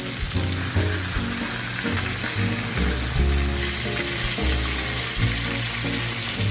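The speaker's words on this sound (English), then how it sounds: "Drop in some flour to make sure it's nice and hot. It should sizzle a little bit." Flour dropped into hot frying oil sizzles steadily, a loud broadband crackle and hiss with low bubbling underneath, continuous throughout without any voices.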